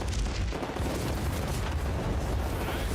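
Big explosion effect in Diablo 4 as a small firework strikes a celebration yacht: a loud, sustained rumbling boom with heavy low-end crackle filling the whole moment, close and dense.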